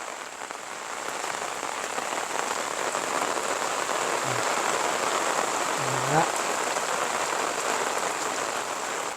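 Light rain falls steadily in the Isan countryside, a soft, even hiss throughout with a brief faint vocal sound in the middle.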